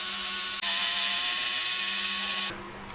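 Electric driver with a 2.5mm bit backing screws out of a Redcat Machete RC car's center brace, a close high whine running steadily for about two seconds after a brief start, then stopping.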